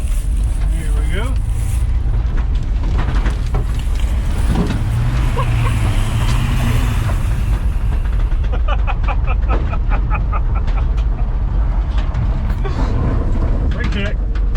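A Chevrolet C10 squarebody pickup truck rumbles steadily on a test drive, with loud engine and road noise throughout while people talk and exclaim over it.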